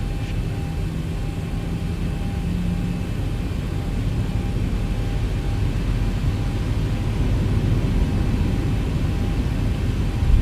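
A Boeing 737 in X-Plane 12 spools its jet engines for a takeoff roll, giving a loud, steady broadband roar that swells slightly toward the end with no voices.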